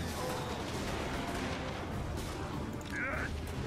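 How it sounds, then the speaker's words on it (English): Cannon fire in the video game Total War: Warhammer rumbles as a dense, continuous barrage of booms and battle noise that fills the whole stretch, with a faint high tone near the end. "So the cannon is still going."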